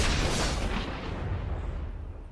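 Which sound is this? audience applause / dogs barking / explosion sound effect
explosion sound effect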